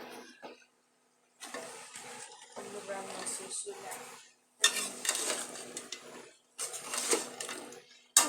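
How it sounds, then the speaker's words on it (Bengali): Potatoes and flat beans sizzling and being stirred in a pan while sautéed, bursts of frying hiss and scraping that start and stop, with someone talking over the cooking. "এখন এই যে তরকারিটা কষাইতেছি"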